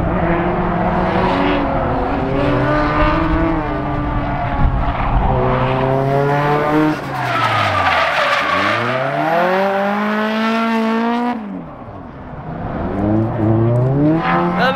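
An SR-engined drift car screams around a track in Japan, the engine rising and falling through sharp revs and gear changes, loud and close, with brief dips as the throttle lifts.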